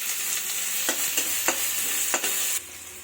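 Chopped onions fry in hot mustard oil with cumin seeds, a close, steady sizzle punctuated by several sharp scraping stirs of a spoon in the pan.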